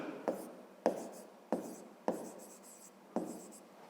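Pen writing on paper during a fifth-grade math exercise, with five distinct scratchy strokes at irregular intervals, each a crisp tap followed by a brief scrape, close and clear.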